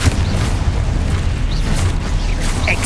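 The Confringo fire spell explodes in the video game Hogwarts Legacy. It is a loud, dense, continuous rumbling blast with a low boom throughout and small crackling pops on top, and no voice is heard.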